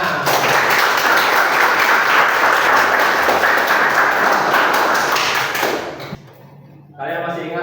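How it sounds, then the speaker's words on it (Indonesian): A class of students claps together in a steady, dense burst for about six seconds, close and loud, then it stops abruptly and a voice begins speaking. "Tepuk tangan."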